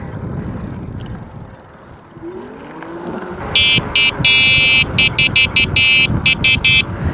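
A Hikeep K6-L e-bike's electronic horn beeps loudly in a rapid series of short bursts and one longer blast, close up over road and wind rumble as the bike rides along.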